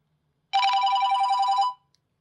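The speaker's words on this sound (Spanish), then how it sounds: "Típico tono de llamada." A Nokia N95 stock ringtone, a typical call tone, sounds once as a bright, clear melodic phrase of about a second, played alone and close against silence.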